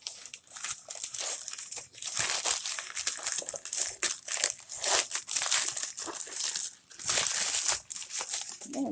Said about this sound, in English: this little piece right here, you just tear it off.